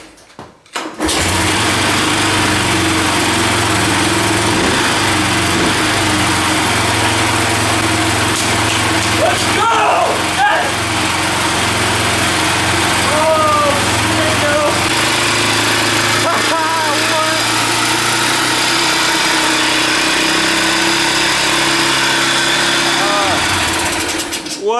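An old 1980s Yamaha three-wheeler, a barn find, runs loudly and steadily after being fitted with a new carburetor, its engine droning continuously up close for most of the stretch with revving fluctuations and some voices underneath.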